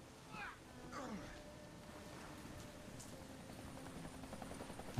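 Game helicopter in the video game Deadlight, a steady low rotor drone with rain-like hiss filling the whole stretch at moderate level, a few brief higher sweeps early on.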